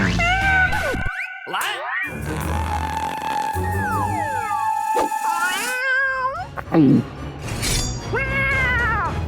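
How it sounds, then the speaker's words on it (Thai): A kitten meowing amid a busy mix of cartoonish effects, crashes and sliding tones, with several short mews and a caterwaul standing out, loud and close. "ลูกแมว"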